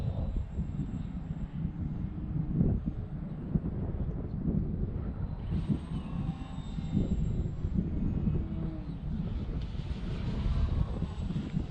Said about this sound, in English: it's a fun little plane to fly